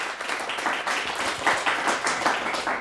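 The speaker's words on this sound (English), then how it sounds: "Big round of applause." Applause from a quiz show audience congratulating the winners, a steady patter of many hands clapping at moderate volume with no voices over it.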